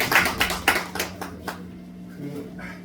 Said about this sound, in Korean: 우리 박수 한번 크게 쳐주세요.